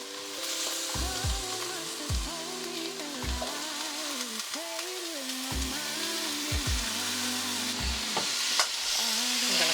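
Potatoes fry and get stirred in a pot for a vegetarian pilau, with a constant sizzle under repeated scraping strokes of the stirring spoon, close and fairly loud.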